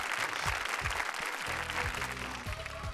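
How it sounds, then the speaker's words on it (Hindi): Studio audience applause rings out for a contestant on a televised reality show, steady and full, with background music or tones layered underneath. "जोरदार तालियां कमलेश के लिए"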